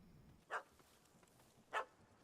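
A dog in the video game The Witcher 3 barks twice at a cat up a tree, two sharp, fairly faint barks about a second apart over a quiet background.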